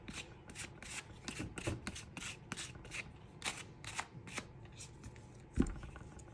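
A card edge scraped back and forth across a stencil on a journal spread, a series of quick, close, faint rasping strokes in an uneven rhythm, with one sharper tap near the end.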